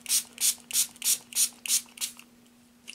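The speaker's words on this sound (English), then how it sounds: "this is where you come in with your spray bottle and just spray some water over the top of the ballast" A handheld spray bottle squirts water over glued model railway ballast on a layout: six rhythmic, hissing trigger sprays in close succession, then a pause and the start of another spray, close and clear with no talking.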